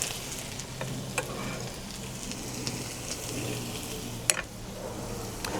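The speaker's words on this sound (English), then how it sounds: "And then we are going to go in with" Onions frying in a kadai over a live fire outdoors, a continuous crackling sizzle with a few faint knocks and one sharp clink, moderately quiet and without speech.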